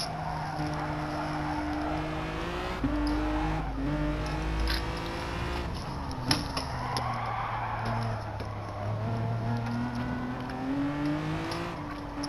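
Formula race car on cold hard tyres in a racing game, engine droning and shifting pitch through gear changes and braking, with brief tyre squeal, steady and close throughout.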